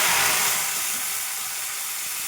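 Washed gongura leaves dropped into hot oil for pickle, giving a loud, close, broad sizzling hiss that fades slightly after the first half second and then holds steady.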